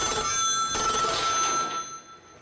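A telephone rings late at night, its bright electronic bell trilling loudly and continuously before fading away over the last half second.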